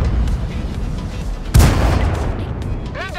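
A single loud tank cannon blast erupts midway through the World of Tanks battle on Mountain Pass North, a sharp booming shot with a rumbling tail, set against steady engine drone and game noise; the firing tank is an AMX 13 57.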